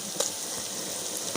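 Turmeric, fenugreek and korma masala frying in a pan, with a steady, dense sizzle and a brief clatter near the start.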